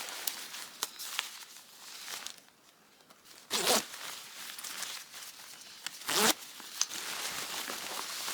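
A zipper closing a compressible packing bag stuffed with a fluffy coat, heard as close repeated zipping strokes with two sharp loud rasps and softer crinkling between them, without speech.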